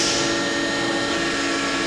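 Power tilt motor on an 18 by 22 inch HE&M universal vertical band saw, a steady continuous electric motor whir with a high tonal hum, running alone without pause.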